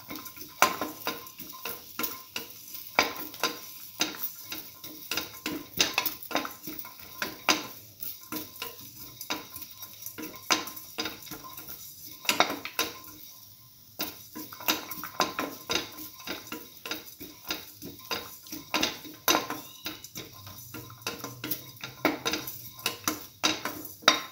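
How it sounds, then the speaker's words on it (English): Scrambled egg and bread stir fry with garlic is tossed in a pan, heard as a long run of quick metallic clinks and scrapes from a utensil against the pan at a busy, uneven pace, close, with only a faint sizzle underneath. "Keep on sauteing"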